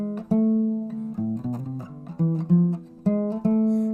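A guitar plays a harmonic minor scale as a run of distinct single notes at a moderate, steady pace, close and clear with no voices.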